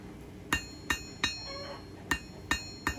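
A blacksmith's hammer strikes hot steel six times while drawing a taper on an awl, each blow a sharp metallic clink with a short ring, in two uneven groups of three.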